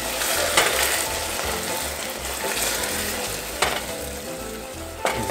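Sugar syrup for candied strawberries, or tanghulu, is stirred in a pan, giving a steady, close sizzling and bubbling hiss with occasional sharp clicks of the utensil against the pan.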